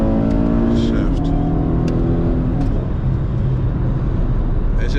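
Engine of a car with paddle shifters revving high in second gear, a loud steady drone with rising harmonics that shift after the change, running continuously up close inside the cabin.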